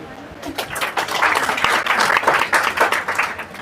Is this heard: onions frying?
no